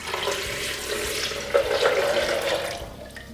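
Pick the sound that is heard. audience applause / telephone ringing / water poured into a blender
water poured into a blender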